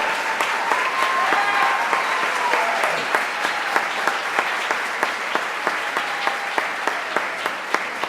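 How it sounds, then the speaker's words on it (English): A standing crowd at a physician assistant white coat ceremony gives a sustained round of applause, dense clapping throughout with some sharper individual claps standing out near the front and a few cheers. "We need to give you another round of applause"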